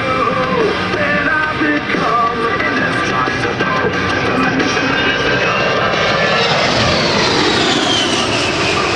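An A-10C Warthog twin-engine jet of the US Air Force demo team makes a strafing pass at the Cleveland National Air Show, a loud, continuous roaring whine that swells and shifts in pitch as it passes overhead, heard alone.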